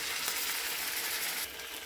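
Vegetarian aloo dum of potatoes, peas and tomato frying in a pan with yogurt and a little sambar masala, a steady close sizzle that softens slightly near the end.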